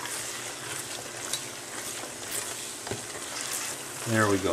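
Sherry poured into a pot of cooking onions for French onion soup sizzles and fries steadily and close by, with light stirring clatter and a short spoken remark near the end.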